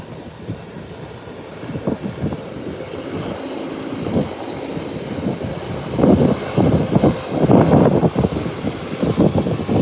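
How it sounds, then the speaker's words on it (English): A Beechcraft 1900 airplane taxiing, a low rumbling engine drone that swells and grows rougher and louder toward the end, heard from outdoors at moderate distance without talk. "Here's a Beechcraft 1900"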